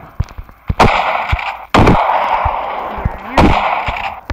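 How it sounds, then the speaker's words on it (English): Gunfire in the Pixel Combat FPS video game: several sharp, loud shots spaced irregularly over a few seconds, with a sustained noisy wash between bursts and no voices. "now he's shooting guns at me"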